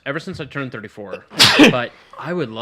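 One loud, sharp sneeze bursts out between stretches of conversation, with people talking before and after it.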